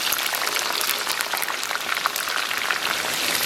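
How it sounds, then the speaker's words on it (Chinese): Scallions and ginger stir-frying in hot oil in a wok, a steady loud sizzle with fine crackling spatter and no pauses or voices. "简单给它煸炒一下"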